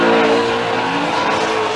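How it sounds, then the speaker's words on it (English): Vaughn Gittin Jr.'s Monster Energy Mustang drift car at a Formula Drift round in Atlanta, climbing a hill into a tight corner: a loud, continuous engine roar with steady tire noise, dense and unbroken. "Vaughn Gittin Jr., the Monster Energy Mustang, flying up the hill into the keyhole"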